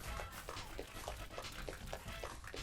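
A dog in the video game Deadly Premonition, heard as a series of short, evenly spaced paw or yip sounds repeating about every third of a second, moderately close over a steady game background.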